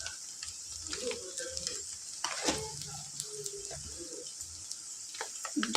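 Boti meat fries with masala and chilli powder as it is stirred in a pan, a soft, quiet sizzle with spoon scrapes, while birds chirp faintly in the background.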